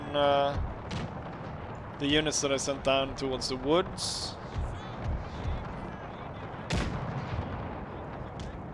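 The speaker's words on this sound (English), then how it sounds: "nasty cannon hit" Cannon shots and impacts from an 1866 Austro-Prussian War battle in a strategy video game, with a sharp boom near the end and other bangs and game noise throughout, while someone talks over most of it.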